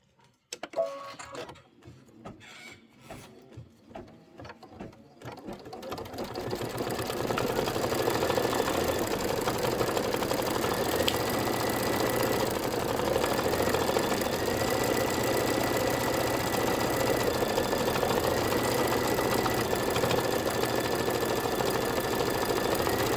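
A Kimberbell embroidery project stitches on a sewing machine, starting with a few clicks and short bursts, then a loud, continuous rapid buzz that holds steady to the end.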